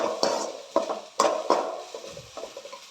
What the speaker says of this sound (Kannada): ಈರುಳ್ಳಿ ಬಂದು ಕಲರ್ ಚೇಂಜ್ ಆಗೋವರೆಗೂ ಹುರ್ಕೋಬೇಕು